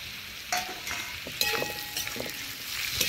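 Ground spice paste hitting a hot pan and being fried while stirred, close sizzling with quick spatula scrapes and clatter in short bursts.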